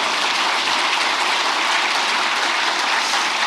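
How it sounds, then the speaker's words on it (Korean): A lecture audience breaks into loud, dense applause, continuous and steady throughout, with no voices over it. "이럴 때 박수도 한번 하세요."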